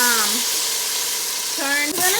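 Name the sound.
chicken frying in a pan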